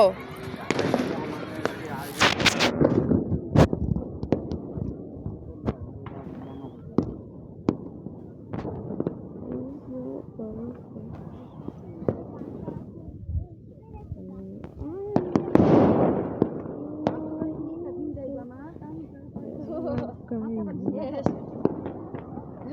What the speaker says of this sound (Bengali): আতশবাজি ফাটা